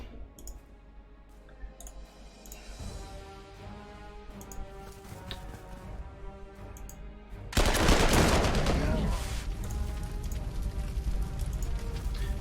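Artillery fire from the World War II strategy game Panzer Corps 2 arrives as a burst of loud booms and rattling gunfire over game music and interface clicks. The firing continues as a dense barrage to the end.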